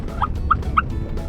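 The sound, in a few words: wild turkey hen calling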